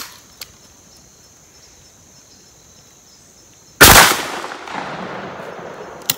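A single close, loud shotgun blast of 32 pellets of number 4 buckshot cracks out outdoors and rings off into a decaying echo, with crickets chirping faintly before and after.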